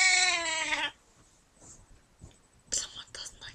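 A Siamese cat gives one loud, drawn-out, tonal meow up close, followed by quiet room noise and soft whispered voices.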